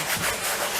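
Wood trim on a house being sanded before painting, a steady close-up scratchy rubbing that continues without pause for under a second, with no voices.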